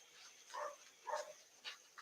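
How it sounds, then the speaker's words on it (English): Several dog barks, somewhat distant and muffled, spaced about half a second apart, over a faint steady background hiss. "Can you hear my dogs barking?"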